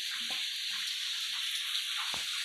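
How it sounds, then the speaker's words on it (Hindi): Rainwater pours off a house roof and splashes onto the ground below during a New Year downpour, making a steady, soft hiss with a couple of brief knocks. "हमारे छत से पानी निकल के जब नीचे गिर रहा है उसकी आवाज आ रही है ना काफी"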